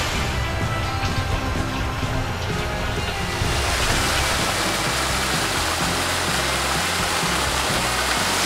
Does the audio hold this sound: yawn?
no